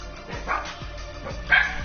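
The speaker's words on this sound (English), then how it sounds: "because my dog started barking" A dog barks repeatedly indoors, several quick, fairly loud woofs in an irregular rhythm, heard on its own without talk.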